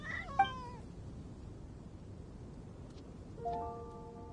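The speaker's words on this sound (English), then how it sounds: "Aw, good kitty." A cat in Genshin Impact gives two short meows, one early and one near the end, over a quiet background of soft rain.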